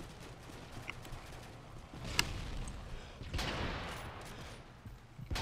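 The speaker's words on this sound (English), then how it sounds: "That's a dead body I'm shooting at." Gunfire in a military shooter game, aimed at a dead body: a few scattered shots, one sharp crack near the middle and a louder burst of fire later, set against steady background battle noise.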